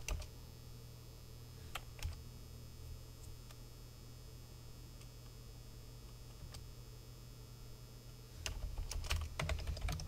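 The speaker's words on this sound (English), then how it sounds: "If I do a find function on my keyboard" Rapid keystrokes on a computer keyboard while searching an estate-section builder's hardware catalogue, a close, steady clicking over a low mains hum, with louder rustling at the end.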